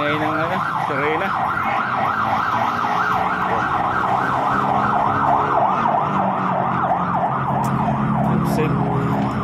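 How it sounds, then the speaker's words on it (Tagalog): An emergency vehicle siren wails on the road near Bridgeway, its rising and falling tone cycling steadily and loud over traffic rumble for the whole stretch. "ingay ng ano, sirena"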